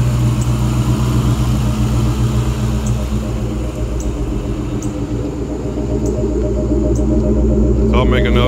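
A Ford SVT Cobra engine idles after a cold start, a loud, steady, rumbling drone with a regular pulse close by, with a short rustle at the end.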